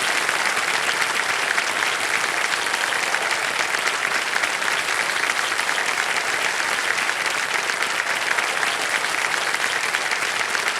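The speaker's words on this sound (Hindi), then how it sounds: "ताली बजती है।" Studio audience at a televised quiz show clapping steadily and densely, a sustained loud wash of applause with no voices over it.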